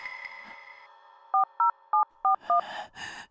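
Five short, evenly spaced dual-tone beeps of a telephone number being keyed in, loud and clean against a quiet room, followed by a brief burst of rustling noise.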